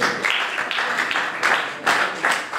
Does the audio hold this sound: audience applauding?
yes